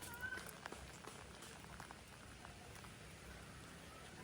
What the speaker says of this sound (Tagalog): Bumagsak yung ulan.